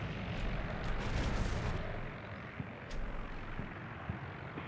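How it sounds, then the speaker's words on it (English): Machine gun fire aimed at a tank in the video game Combat Mission: Cold War, heard as a dense distant rumble of rattling bursts and booming battle noise, steady and fairly loud, with a few sharper cracks near the end. "you're machine gunning a tank"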